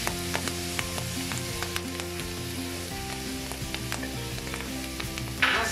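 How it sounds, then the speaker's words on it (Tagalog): Mushrooms with garlic and onion fry in a pan, a close, steady sizzle with light crackles and the scrape of stirring throughout. "Mas gusto po kasi namin yung mushroom na talaga natin iprito siya."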